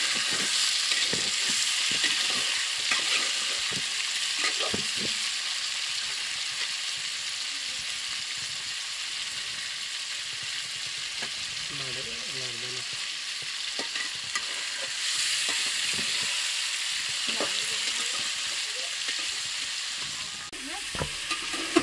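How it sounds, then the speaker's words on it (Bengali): Meat frying in a little oil, a continuous close sizzle with stirring and scraping against the pan throughout. "এই তো আমার মাংসগুলো কিন্তু অল্প তেলের মধ্যে ভাজা হয়ে গেছে।"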